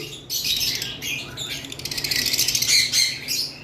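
Green Fischer opaline lovebirds squawking and chirping in quick, overlapping bursts, shrill and close, with several birds calling at once.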